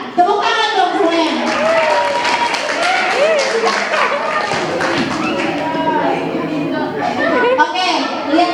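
A school event audience claps together at an SMK in Depok, a steady mass of applause that stays loud throughout beneath continuous voices and chatter.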